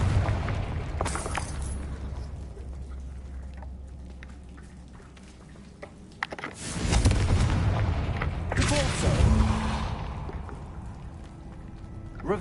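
A Confringo explosive spell is cast in the video game Hogwarts Legacy, giving deep booming blasts and rumbling bursts over continuous game background noise.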